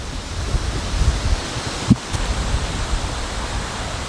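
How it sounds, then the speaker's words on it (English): Strong wind roars steadily into the microphone, a dense rumbling buffet with a few harder gusts and thumps, no voices. "So windy."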